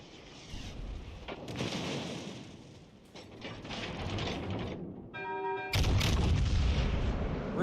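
Warship turret guns booming in World of Warships Legends, with a battleship Vermont in battle, heavy rumbling blasts rolling over a noisy background, a short tonal beep sequence, then a louder final salvo.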